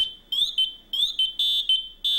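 Loud PASS alarm from an MSA FireHawk M7 SCBA power module: piercing shrill electronic tones in short rising chirps and bursts, repeated with brief gaps, close and alone.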